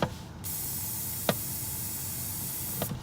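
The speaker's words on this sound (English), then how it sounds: "We use brake parts cleaner." Brake parts cleaner sprayed from an aerosol can onto a bald-faced hornet nest gives a loud, steady hiss lasting about three seconds, with two faint knocks during the spray.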